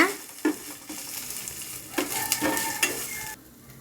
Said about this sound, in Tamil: நல்லா ஒரு 30 செகண்டுக்கு நல்லா வதக்கிங்க.